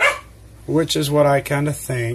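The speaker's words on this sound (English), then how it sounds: "Well, that was the dog barking." A dog barks a few times in quick succession, fairly close, while a person speaks over it.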